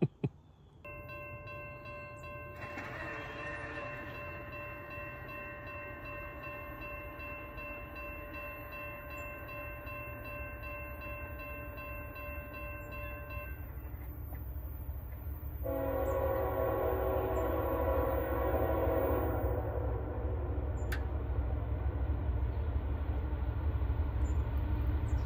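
A train horn blares in long chords, first one sustained blast, then another after a pause, over the steady rumble of a passing CSX freight train hauled by NS locomotives.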